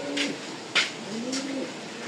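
A young racing pigeon of a foreign line, hatched in 2021, gives low, rolling coos, two clear phrases close by, with a few soft wing or handling rustles in between.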